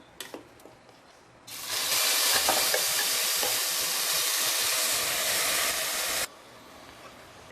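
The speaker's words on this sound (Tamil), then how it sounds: "பொரிஞ்சதும் நம்ம அரைச்சி வச்ச ஆனியனும் பச்சை மிளகாவும் சேர்த்து பேஸ்ட்டை இதில்" A ground onion and green chili paste hits hot oil with fennel seeds for mutton kuzhambu, bursting into a loud, steady hiss after a quiet start, holding for several seconds, then cutting off abruptly.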